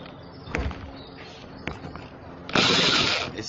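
A few knocks and handling thumps, then a jigsaw motor starts with a loud buzzing rattle near the end.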